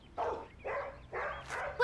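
A dog barks four times in an even rhythm, each bark short and sharp, fairly quiet and alone with nothing else around it.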